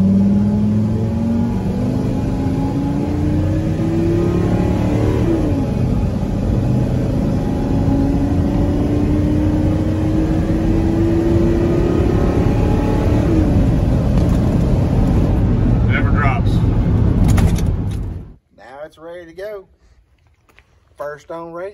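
A Ford Triton V10 truck engine revs up hard in drive, a loud rising roar that holds steady for about seventeen seconds before cutting off abruptly into near silence.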